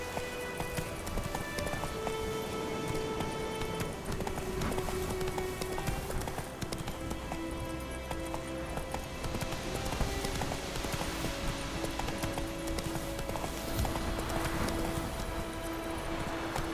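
A horse gallops in The Witcher 3, rapid rhythmic hoofbeats running steadily throughout over a layer of game music, close and continuous.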